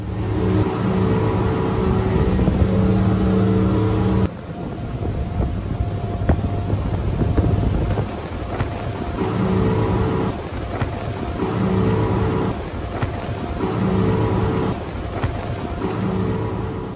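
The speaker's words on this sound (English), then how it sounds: "Listen to a boat with a standard and a toroidal propeller to see how much noise is reduced between the two." A boat driven first by a standard propeller and then by a toroidal propeller, heard as a steady, loud motor and water roar lasting throughout, with several shifts in the tone and level of the noise and some wind on the microphone.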